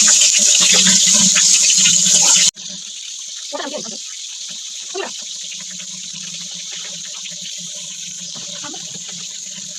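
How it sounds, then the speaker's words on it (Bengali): Shaluk, water lily tubers, being washed, with a loud rush of running water that cuts off after about two seconds, then quieter splashing and handling in water under a faint steady hiss. "তো আমরা প্রথমে শালুকগুলো ধুয়ে নিব"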